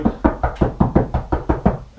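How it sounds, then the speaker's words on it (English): Knuckles knock on a tongue-and-groove pine wood wall while hunting for studs, a fast, even series of about ten hollow, close taps with no talk. "I knock on the wood"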